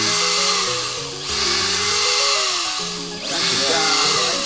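Power drill boring into the trunk of a red sandalwood tree, a loud steady whine with two brief dips as the bit bites into the wood, running continuously throughout.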